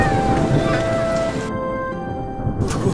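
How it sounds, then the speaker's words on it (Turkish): Steady rain patters on surfaces with a broad hiss close by, and a faint tonal sound runs under it early on; no voices are heard. "Ah, yağmurdan kurtulduk."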